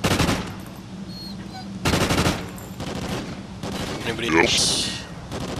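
Bursts of automatic gunfire and shots from Call of Duty: Ghosts crackle loudly in several rapid volleys, with someone speaking briefly over the combat noise.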